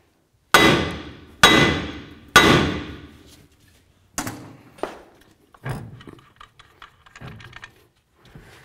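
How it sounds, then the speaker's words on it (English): Sharp metal hammer blows ring out against a front axle part on a 2006-10 Dodge RAM, three hard strikes in quick succession followed by several lighter, scattered taps, close and loud in a quiet garage. "Now we're going to give this a couple loving bonks to break it free as well."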